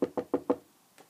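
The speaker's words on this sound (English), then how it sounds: "But if you ever come knocking on my door," Four quick, evenly spaced knocks on a door, close and distinct with no voices, followed after a pause by one faint, lighter tap.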